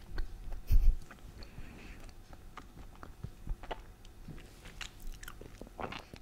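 Someone bites and chews mimolette cheese during a savory tasting, close and quiet, with soft crunchy bites and intermittent mouth sounds.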